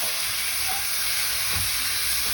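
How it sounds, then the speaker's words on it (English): Chopped watermelon rind going into a pan of cooking onions for watermelon sabzi, loud continuous frying hiss and sizzle with a dull thud as it lands. "Here I have my washed up chopped watermelon. So at this point we're going to go ahead and dump that in."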